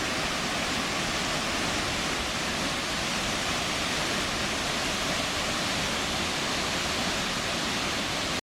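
A waterfall at Dodson Cave Falls in Tennessee, where water pours out of a cave, fills the air with a steady, dense, broadband roar that runs unbroken and loud throughout.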